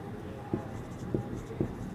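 A pen writing out a geometry proof about triangles on paper gives three short, soft scratching strokes at an even pace over a low background hum.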